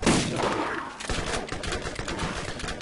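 Dense, noisy burst of sniper rifle gunfire in the video game Borderlands, cracking shots layered over a busy background, loud throughout.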